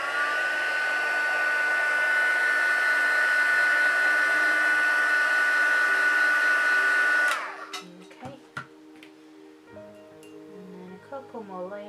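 Heat tool setting embossing powder: a steady, loud blowing whir lasting about seven seconds, then cutting off, followed by light clinks and handling noises nearby.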